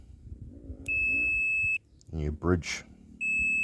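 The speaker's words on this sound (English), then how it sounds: "And as you hear, it makes a beep, and that tells you that yes, it is one continuous piece of wire." A multimeter on its continuity setting emits a steady high electronic tone each time its probes bridge two wiring connectors on an EL ECU setup, sounding twice with a brief gap between. Someone talks quietly before and between the tones.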